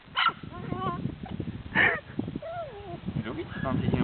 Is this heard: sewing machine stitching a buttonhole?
no